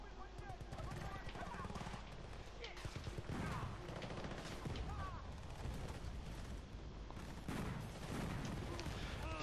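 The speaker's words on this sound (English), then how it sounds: "So many explosions!" Explosions and gunfire in Battlefield Bad Company 2 pile up in quick succession, with dense bursts of shots and heavy booms, a player talking over the chaos.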